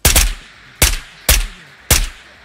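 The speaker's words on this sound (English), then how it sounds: "lots of shots towards the back" Gunfire in a video game raid with an H&K G36K: four loud, sharp shots in an uneven rhythm, each about half a second apart with a short decaying tail, standing alone without talk.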